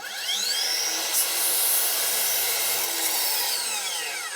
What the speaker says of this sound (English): So now I'm just going to cut a straight 90-degree cut with a 15-degree bevel in it.